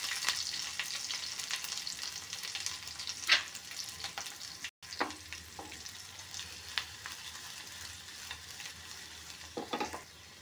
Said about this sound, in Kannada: ಇದು ಒಗ್ಗರಣೆ ಸ್ವಲ್ಪ ಬೇಯಿಲ್ರಿ ಅದು ಹಾಕಿದ್ದು.